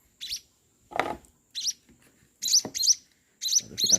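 Week-old Java sparrow chicks, munia nestlings being hand-fed, give short, high, thin chirps in quick separate bursts, close but quiet, with a few soft handling bumps between calls.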